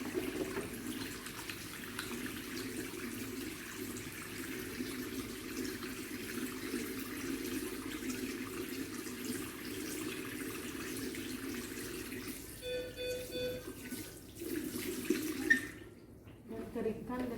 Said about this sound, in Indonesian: Cuci tangan dengan air mengalir dengan 7 langkah